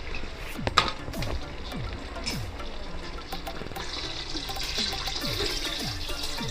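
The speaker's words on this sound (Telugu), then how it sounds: "దీంట్లో వాటర్ వేసుకుందామండి" Water pours into a cooking pot of country chicken curry, a splashing, gurgling stream running under kitchen clatter, close and moderately loud.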